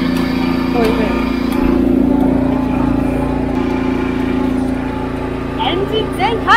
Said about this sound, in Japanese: エンジン全開!